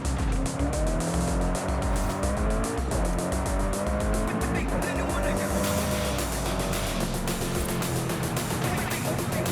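A Koenigsegg hypercar roars continuously in Forza Horizon 5, its engine note climbing through gears with a dense, loud, steady drone and a brief tire squeal, close, alone without talk.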